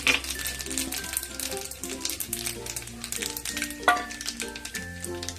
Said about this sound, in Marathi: तेल गरम झाले आपण ही उडदाची डाळ आणि मोहरी घालून घेऊया